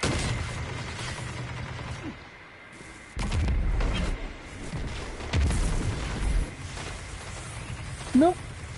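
Sharp booming shots crack out several times in a noisy game mix, with a voice talking between the bursts.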